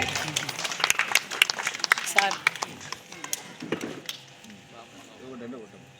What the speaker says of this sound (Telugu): చప్పట్లు కొట్టడం వల్ల ఆరోగ్యానికి చాలా మంచిది